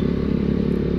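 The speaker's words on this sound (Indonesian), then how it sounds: "Menurut saya ini untuk suara knalpotnya emang adem sih, hampir gak bersuara, apalagi pada saat di RPM rendah seperti ini." A Honda Beat scooter fitted with a KJS aftermarket exhaust idles at low RPM, giving a steady, soft, mellow engine drone with no change in pitch, close by and alone.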